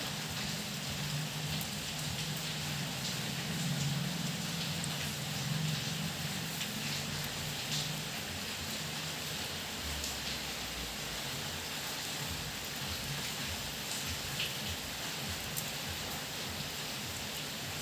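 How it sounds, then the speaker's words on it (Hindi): Heavy rain from Cyclone Yaas pours steadily and densely, a constant broadband hiss of rainfall with no voices. "तो अभी बहुत ज़ोरों से बारिश हो रही है,"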